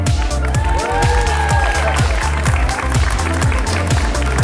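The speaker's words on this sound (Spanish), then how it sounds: "Fuertes aplausos." Teachers are applauded at a school start-of-year ceremony, with dense, sustained clapping from a crowd over loud, rhythmic, bass-heavy music.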